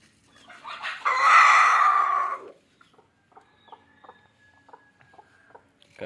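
Native country chickens pecking at feed, with a burst of loud clucking and fowl calls near the start, then a run of soft, scattered pecks and faint short calls.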